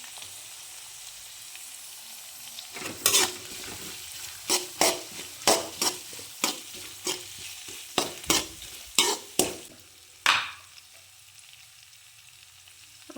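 Crushed ginger and garlic sizzle in a hot pan while tomato rice is cooked, with a steady frying hiss broken by a run of sharp, regular scraping stirs up close.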